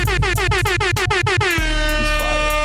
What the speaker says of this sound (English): I was still dropping air horns.